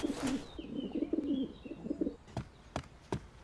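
A cartoon pigeon coos in several soft, throaty rolling bursts, followed by a few short sharp taps or flutters, fairly close and quiet with no one speaking.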